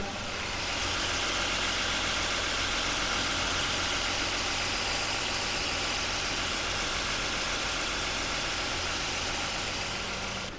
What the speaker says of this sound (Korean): 엔진룸을 열어서 엔진 소리 한번 들어보겠습니다